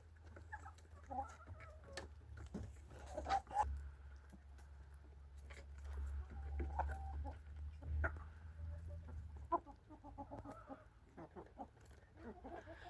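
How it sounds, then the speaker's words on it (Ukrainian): Chickens of a heritage laying breed cluck and mutter in a farmyard, scattered soft calls running steadily under low background hum, with occasional louder clucks standing out. "Так що ось такі цікаві кури."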